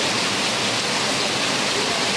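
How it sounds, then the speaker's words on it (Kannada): Heavy rain pours down in a dense, steady broadband hiss that stays loud and unbroken throughout, with no voices. "ನೀವು ನೋಡ್ತಾ ಇದ್ದೀರಾ ಇಷ್ಟು ಮಟ್ಟಿಗೆ ಮಳೆ ಬರ್ತಾ ಇದೆ."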